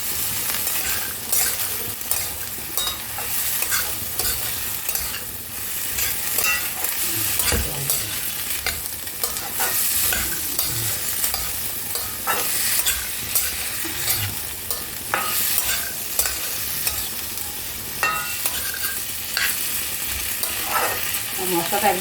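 Boiled chickpeas and slit green chillies stirred into spice masala frying in a pan for a chickpea curry with potato, a continuous sizzle broken by repeated scraping strokes and occasional utensil clinks, close and fairly loud.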